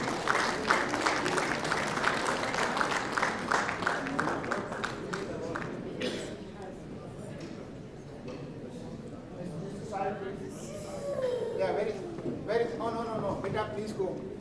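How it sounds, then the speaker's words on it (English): An audience at a business conference gala claps for Syed Hussaini, Vice President of Wintrust Bank, with brisk applause at the start that fades into talking and crowd chatter. "please give a round of applause to"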